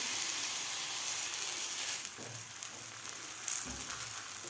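Bajra millet thalipeeth flatbread packed with leafy greens roasts on a hot pan with a steady, close sizzle and crackle of oil that eases slightly midway, with no voices.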